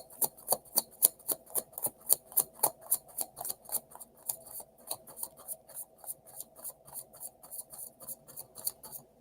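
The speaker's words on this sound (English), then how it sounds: "So that was a good shuffle." Rapid, regular crisp riffling clicks of tarot cards being shuffled, close and steady, slowing slightly toward the end.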